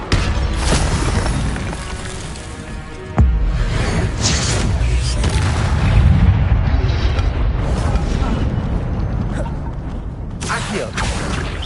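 Incendio fire spell being cast in Hogwarts Legacy: a loud, sustained roaring burst with a whooshing rush and a sharp boom a few seconds in, swelling again mid-way before fading out.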